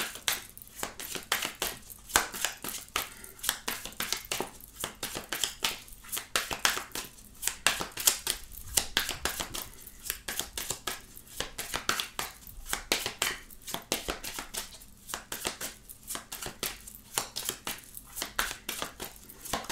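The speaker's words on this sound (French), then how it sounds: "je vais juste recouvrir certaines cartes pour approfondir ce tirage" Tarot cards are handled and flipped over a tabletop in a run of soft, close, papery swishes and taps that repeat at a steady pace, quiet and without voice.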